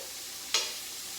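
Heaping spoonfuls of cowboy caviar drop into a hot pan of breakfast scramble, giving one brief soft splat followed by a short burst of sizzling that fades back into a low frying hiss.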